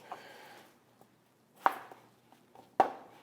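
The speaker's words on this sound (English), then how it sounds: "I'm gonna go ahead and chop the other ingredients. So I have some cucumber." A knife chops mini cucumbers on a chopping board for a Ghanaian party salad, giving a few sharp, distinct thuds spaced apart with quiet gaps between.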